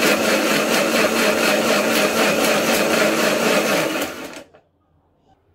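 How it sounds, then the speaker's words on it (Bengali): Spice paste with a little added water churns in an electric blender, a loud whirring motor with a rhythmic pulsing chop running steadily for about four seconds before winding down and stopping into quiet. "আবার একটু ব্লেন্ড করে নিব।"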